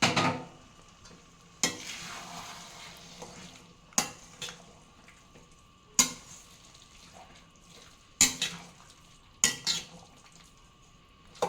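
Milk is poured little by little into bread halwa in a pan with the gas off, with a faint sizzle and a spoon clanking against the pan every couple of seconds, close and clear.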